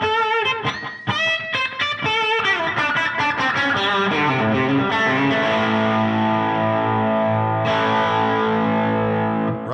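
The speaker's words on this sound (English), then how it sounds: "when you do the slap back delay, you got one repeat, and then you turn the reverb off" Electric guitar through a distorted amp with a single-repeat slapback delay and reverb switched off, playing sharp choppy chords and then sustained ringing notes, loud and close with no talking.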